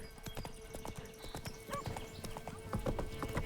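Roach, the horse in The Witcher 3: Wild Hunt, clip-clops along at a brisk steady gait, with rapid hoofbeats over a game soundscape and a person talking briefly.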